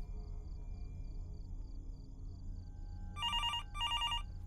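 Telephone ringing in the horror video game Fears To Fathom, two bursts of a bright electronic bell ring near the end over a quiet low hum.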